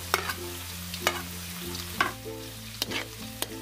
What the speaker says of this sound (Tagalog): Yan, gisa po muna natin ito sandali